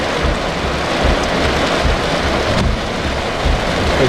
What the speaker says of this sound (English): it's raining so hard that I'm not going to roll down the window